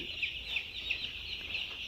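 Chickens in a poultry brooding shed give a steady run of clucks and repeated high peeps, a busy flock held at a constant moderate level.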